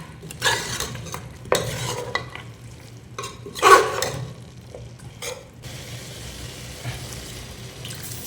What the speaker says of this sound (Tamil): அவ்வளோதான் கிண்டி பண்ணலாம் நல்லா ஒரு அஞ்சு நிமிஷம் நல்லா மசாலா எல்லாம் பிடிக்கிறோம்